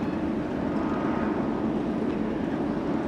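Elite Airways airliner taxiing at LAX, a continuous low engine rumble and whine holding steady in the distance, with no voices.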